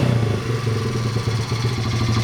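A Honda CRF50 motorcycle engine runs close by with a loud, steady, rapid chugging idle and mechanical clatter throughout.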